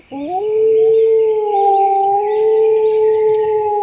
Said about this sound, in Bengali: শিয়াল পাহাড়ে উঠে গাইতে শুরু করল